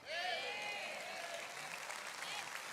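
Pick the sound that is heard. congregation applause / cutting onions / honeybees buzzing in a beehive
congregation applause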